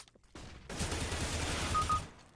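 Gunfire in CS:GO, a dense, continuous burst of shots lasting over a second, loud and close, then trailing off.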